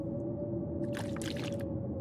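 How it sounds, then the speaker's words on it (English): Water being filled in The Long Dark, a soft burst of splashing, gurgling liquid lasting under a second over a low steady hum, with no talk. "Fill up on some water."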